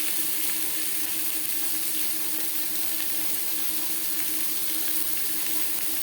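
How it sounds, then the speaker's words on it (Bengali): Boiled potatoes fry with salt and turmeric in a small amount of oil for a chicken curry, giving a steady, close, even sizzle throughout with no voices. "আলু ভেজে নেব।"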